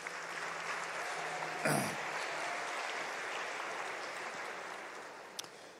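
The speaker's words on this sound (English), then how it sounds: "Give yourselves a big round of applause." Audience of school learners applauding at the Eswatini National Science Month launch, a moderate wash of clapping that runs steadily across the whole stretch.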